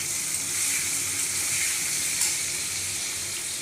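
Chopped tomato drops into hot oil in a pan for a Bengali fish and potato curry, giving a steady, close, loud hiss of sizzling that runs evenly throughout with no talk.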